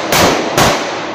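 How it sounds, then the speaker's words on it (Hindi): Two loud, sharp New Year firecracker bangs go off close by, about half a second apart, each with a short crackling decay. "पटाखे की शुरुआत, न्यू ईयर का पटाखा, ये न्यू ईयर का पटाखा।"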